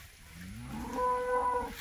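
Cows mooing outdoors on a farm, several low drawn-out calls rising and overlapping over about two seconds, moderately loud against a breezy background with no talk.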